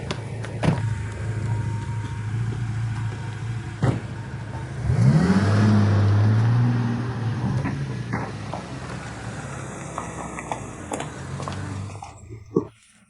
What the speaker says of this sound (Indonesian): Mobil Bos LV sudah datang.